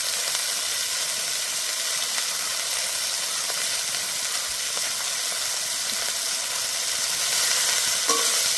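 Bathua greens (beto shak) frying in oil in a pan, giving a loud, steady sizzling hiss throughout with faint scattered clicks and no talk.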